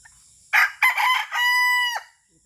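A single rooster crows nearby, a clear, loud cock-a-doodle-doo with a long held final note, alone against near silence.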